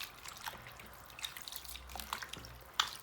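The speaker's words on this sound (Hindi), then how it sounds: "अब इसको मल मल के धो लूँगी" Goat tripe (ojri) is washed by hand in water, giving soft, faint sloshes, drips and splashes at irregular intervals, close by and quiet.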